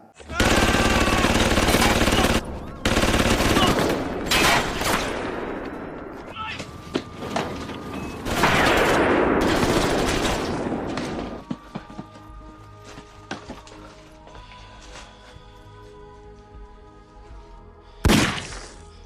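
Film gunfire during a prison-camp scene: dense, loud bursts of rapid shots and crashing impacts fill the first half, then sparser scattered cracks and a final sharp blast, with talking voices mixed in.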